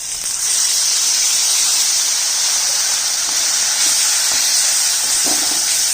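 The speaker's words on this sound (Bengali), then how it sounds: "পেঁয়াজটা একটু লাল করে ভেজে নিচ্ছি" Onion paste and ginger paste fry in hot oil in a pan for a Bengali fish curry, giving a loud, steady sizzle and hiss that carries on unbroken with no voices over it.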